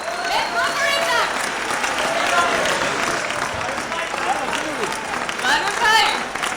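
An audience at a cricket-themed celebration event applauds and cheers, a steady wash of clapping with shrill whistles and shouts rising through it.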